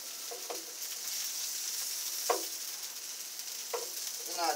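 Food cooks on an outdoor grill with a constant close hiss of sizzling and a few faint clicks and short sounds scattered over it.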